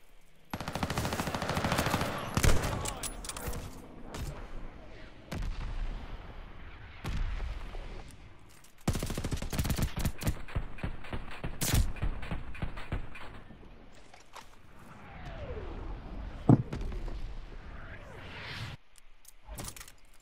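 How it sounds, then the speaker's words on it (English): Battle in a video game with mortar fire and gunfire: repeated bursts of rapid shooting and heavy booming impacts, loud and close, with brief lulls between volleys. "Heads up! Allied mortar fire coming!"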